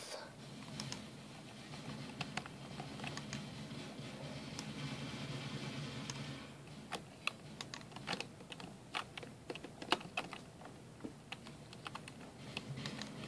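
Fast typing on a computer keyboard during a WarMode shooter game session, first a dense continuous patter, then sharper separate clacks and bursts of keystrokes.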